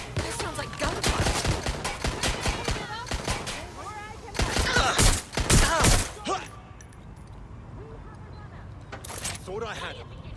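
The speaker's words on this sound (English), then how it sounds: "This sounds like gunfire." Rapid bursts of gunfire in the video game Watch Dogs: Legion crack out in clusters, with loud volleys mid-clip, while people talk over the shooting and it fades to scattered shots.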